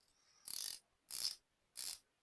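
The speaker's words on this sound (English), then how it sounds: "120 click unidirectional bezel, which you can hear a little better" A unidirectional 120-click stainless steel dive watch bezel being turned in three short bursts of rapid fine ratcheting clicks, close and quiet against near silence.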